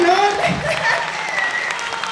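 Audience applause for a Mexican mariachi band at a live regional music concert, a steady crowd clapping sound filling the room with voices and musical tones over it.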